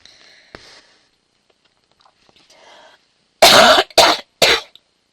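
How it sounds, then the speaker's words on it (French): Three harsh, loud coughs in quick succession follow some faint rustling and a soft clear of the throat. "C'est le moment où je vais tousser."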